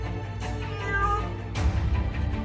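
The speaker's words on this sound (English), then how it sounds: "I have no idea how a cat got on the 34th floor" A cat stuck on a 34th-floor ledge meows loudly and insistently, two drawn-out cries close by over steady wind-like background noise, with no talking.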